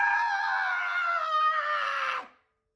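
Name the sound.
cartoon ponies screaming as they fall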